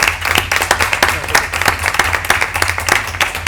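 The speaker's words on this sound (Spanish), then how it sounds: "te despedimos con un fuerte aplauso por la sesión que nos has dado" A lecture audience breaks into loud, sustained applause as a philosophy session on Machiavelli's The Prince ends: dense, steady clapping from many hands, close and continuous throughout.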